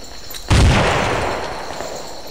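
A C4 charge detonates in Project Reality, a single loud, deep blast after a brief quiet moment, followed by a long fading rumble.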